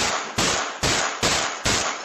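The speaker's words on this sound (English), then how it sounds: "The echo of gunshots" Gunshots ring out in a series of five evenly spaced sharp cracks, each trailing off in a broad echoing decay, loud and harsh in a residential neighborhood.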